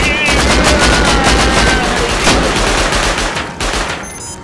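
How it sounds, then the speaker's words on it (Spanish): Auto turrets in the survival game Rust spray loud, continuous automatic fire, a dense rapid rattle of shots that runs almost the whole time and drops off slightly near the end. "Me cago, las acabo de activar para que te disparen"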